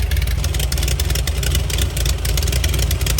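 A supercharged drag car engine rumbles steadily at an outdoor classic car show in Florida, a loud, continuous low-pitched drone with a rough idle texture and no talk over it.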